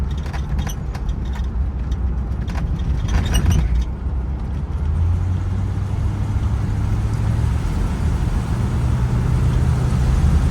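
A 1965 Cadillac Eldorado convertible with a three-speed automatic gearbox pulls away, its low engine rumble steady and close, rising gently in pitch with smooth shifts under road and wind noise, with some clicking early on.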